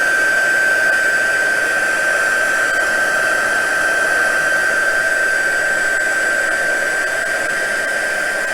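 A heat tool blows a steady, loud whooshing hiss with a high whine running through it, melting embossing powder on a paper card, continuous and close with no pauses.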